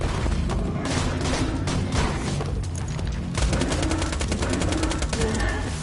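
Rapid bursts of Hyperion weapon gunfire in the video game Borderlands 2, loud dense volleys of automatic shots with booming impacts, continuous over a game soundtrack.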